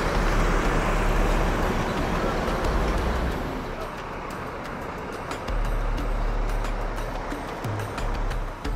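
A JRG sleeper bus pulls out of Batoh terminal in Aceh, bound for Medan, with a loud, steady engine and road rumble that eases for a few seconds, then returns over a low droning hum.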